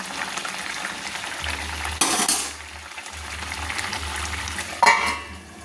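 Rui posto fish curry sizzles in a pan while being stirred, a steady frying hiss broken by scraping spatula strokes and a couple of louder stirring bursts, close up, no talking.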